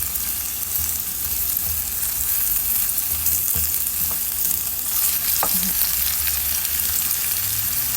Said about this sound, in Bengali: এখন পেঁয়াজ একটু মিশিয়ে দিতে হবে।